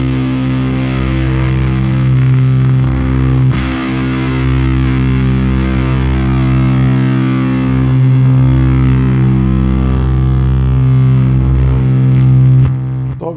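Electric guitar played through the Haunted Labs and Dirty Haggard Hell Horse fuzz delay pedal, with fuzzy sustained notes and long delay repeats that trail behind them. The tone stays loud and steady throughout, with no talking.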